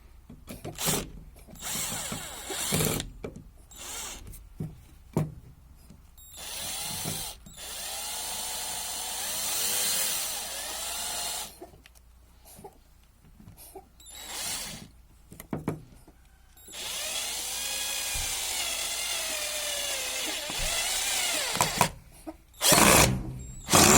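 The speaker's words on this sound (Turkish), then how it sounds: "bunu delmeye aldım." A JCB Pro Plus 36V cordless impact drill drills close up in repeated bursts, the motor revving and stopping with short pauses between runs.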